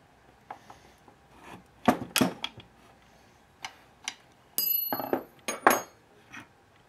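A small spanner works on the plastic case parts of a Husqvarna 288 chainsaw near the oiler, giving scattered sharp metallic ticks and clacks, with a denser burst of close scraping and tapping toward the end.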